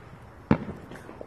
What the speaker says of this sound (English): I'm just sitting at home, chilling, watching the neighborhood fireworks.